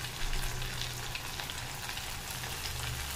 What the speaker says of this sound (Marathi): आपल्याला तुपात तळून घ्यायचे आहेत